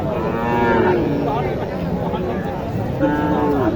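Cattle low loudly at a crowded outdoor cattle market in Naogaon, where young bulls and calves are sold, with two drawn-out moos over a dense background of voices and murmur.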